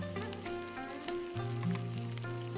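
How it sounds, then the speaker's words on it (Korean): Large slices of salted tofu cooking in a pan of perilla oil, giving a soft, continuous sizzle, close and low, with a tonal hum running underneath and no voices. "팬에 들기름을 자작하게 넣고 크게 썰어 놓은 두부를 넣고 소금을 뿌리고 익혀줍니다"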